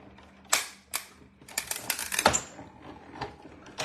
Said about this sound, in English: Literally, you can hear it cranking.